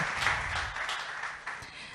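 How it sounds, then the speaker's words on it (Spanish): Audience applause at a Work/Café talk hosted by Santander, a steady, fairly distant wash of many hands clapping for about two seconds with no one speaking. "Un aplauso"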